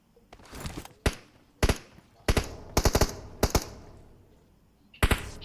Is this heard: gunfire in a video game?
yes